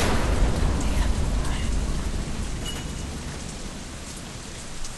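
Loud, close downpour in the video game Deadlight, with a deep thunder rumble at the start that gradually fades while the rain roars on steadily.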